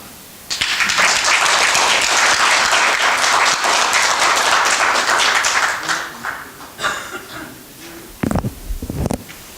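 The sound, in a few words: audience applause welcoming a speaker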